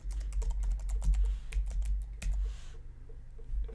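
Password being typed on a computer keyboard, a quick run of crisp, close key clicks in an irregular rhythm with a brief pause before a few final taps, alone without talk.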